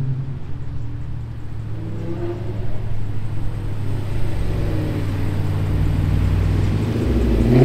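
Lexus LC coupe passing at a Lexus and Toyota car meet in Carlsbad, California, its engine rumble building from a low idle-like hum to a louder, closer roar over the last few seconds, with no talk.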